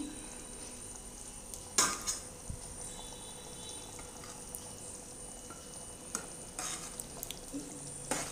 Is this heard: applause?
no